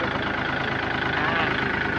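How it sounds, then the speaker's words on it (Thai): Kubota L3218 tractor from 2022, with about 800 hours of use, idling steadily and close by, a low even diesel chug throughout with no talk. "เราฟังเสียงเครื่องบ้างได้ครับ"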